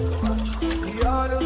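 Half a litre of water poured from a container for instant noodles at a lakeside campfire camp, a steady trickle with background voices and outdoor noise.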